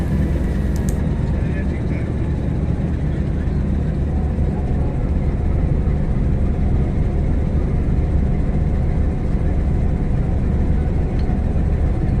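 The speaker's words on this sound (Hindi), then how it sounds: "ये लोकोमोटिव बोलान मिल के साथ अटैच कर दिया गया है" Bolan Mail locomotive, an RGE25114 engine, being coupled to its eight-coach train rake at Quetta station, heard as a steady loud low rumble of idling diesel and yard noise throughout, with people talking faintly in the background.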